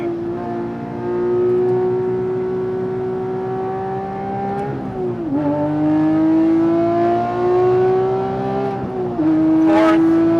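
A Porsche 997.2 GT3 RS 3.8L engine on track, a loud sustained howl that rises steadily, dips with rev-matched downshift blips under braking, then pulls again.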